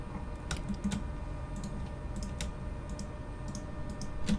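Faint, sparse computer keyboard keystrokes and spacebar taps during 3D modeling work, a few isolated clicks spread over a low steady room hum with no talking.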